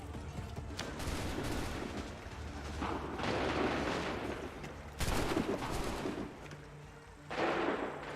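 Musket volleys in Assassin's Creed 3, several rough bursts of massed gunfire that crackle and roll, arriving in waves with brief dips between them, moderately distant.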